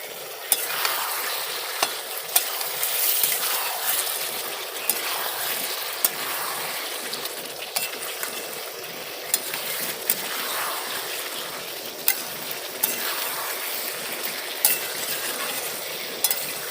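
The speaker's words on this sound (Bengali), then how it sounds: "এই ইঁচড়ের পকোড়াগুলো যেগুলো ভেজে রেখেছিলাম এইভাবে দিয়ে দিলাম।" Fried jackfruit pakoras are tossed into a pan of gravy and stirred, giving a steady soft sizzle broken by regular scraping and clinking of a spoon against the pan, with no speech.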